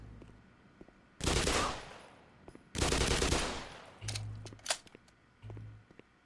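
Gunfire in the video game Black Mesa: two long bursts of automatic fire, followed by shorter scattered shots and clicks, moderately loud and alone.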